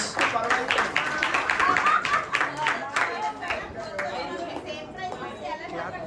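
Audience clapping at a women's Christmas gathering of songs and skits, scattered hand claps and chatter from a crowd, with voices talking over it.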